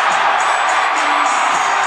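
A college hockey arena crowd at an NC State game roars in a dense, loud wash of cheering and whoops, continuous for the whole moment, with scattered shouts poking through.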